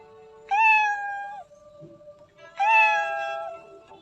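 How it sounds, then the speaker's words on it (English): Two drawn-out cat meows, each about a second long, separated by a brief pause, close and clear with a faint low murmur underneath. "Meow."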